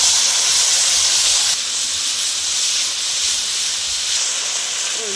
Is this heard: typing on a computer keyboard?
no